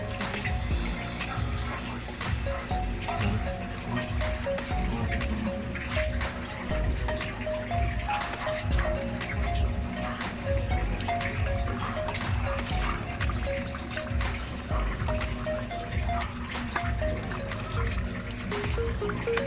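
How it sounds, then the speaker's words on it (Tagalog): Water from an Australian red claw crayfish tank pours steadily into a container, a continuous liquid rush lasting throughout, fairly loud with no talk over it. "Then butangan nato gamay tubig ikan sa iyang tank."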